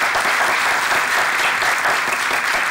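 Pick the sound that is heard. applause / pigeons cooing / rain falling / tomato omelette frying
applause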